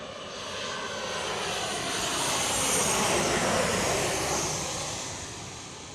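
Aircraft engines roar at Chicago O'Hare airport as a jet passes, a broad steady rumble swelling to a peak mid-way and fading, with no other sound.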